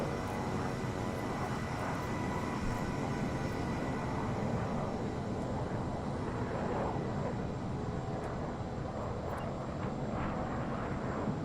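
A steady, droning aircraft engine hums evenly while taxiing on the ground in Microsoft Flight Simulator, with no breaks or voices over the sound.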